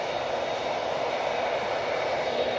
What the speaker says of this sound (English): So EasyJet is off to Alicante. It's an A319.